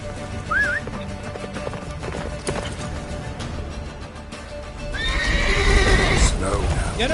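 Roach, a horse in the game The Witcher 3, neighs in a rising whinny early on, then hoofbeats and a louder neigh build toward the end under a busy game soundscape, with occasional voices.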